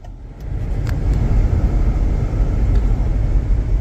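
A car on a gentle drive over freeway and side streets, heard from inside as a steady low engine and road rumble with a few faint ticks and knocks above it and no talking.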